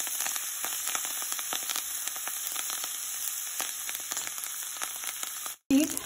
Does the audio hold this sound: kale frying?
yes